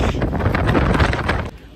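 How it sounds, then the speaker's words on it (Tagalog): Steady wind in Canada buffeting the microphone, a loud broadband rumble and rush that holds for most of the moment, then drops off briefly near the end. "Mahangin nga."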